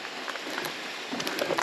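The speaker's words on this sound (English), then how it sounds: "I keep getting rained on too, that's a bonus." Light rain patters steadily on a trail in Alaska, a dense soft hiss of scattered drops with small taps scattered throughout, fairly close and alone with no talk.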